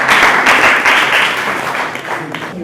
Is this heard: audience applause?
yes